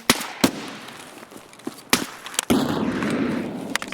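Grenades go off in Escape From Tarkov: sharp, close blasts spaced out over a few seconds, the last one followed by a rumbling tail, with no talking over them.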